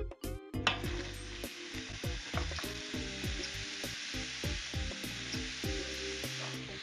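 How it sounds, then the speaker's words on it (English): Two chopped onions going into a heated skillet with olive oil and butter, giving a steady close sizzle broken by repeated scraping and knocking of a utensil against the pan. "So these onions are going to go into the heated skillet over there."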